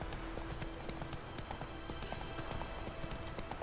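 Roach the horse's hooves clip-clop steadily in The Witcher 3: Wild Hunt, a brisk, continuous trot under game ambience and a brief faint whinny.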